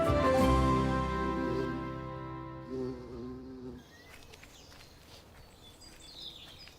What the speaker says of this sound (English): seeing how the bees love all brassica flowers